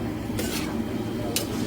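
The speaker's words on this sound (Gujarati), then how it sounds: "આ રીતે મિક્સ કરવા પડે છે." Chana pulao being stirred and mixed in a pot at a street food stall, with two short scraping strokes of a utensil over a steady background hum.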